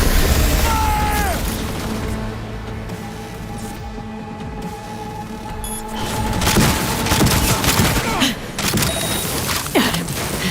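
Gunfire in the video game Cyberpunk 2077, with dense bursts of shots and booms layered over a steady music drone, growing busier and louder in the second half.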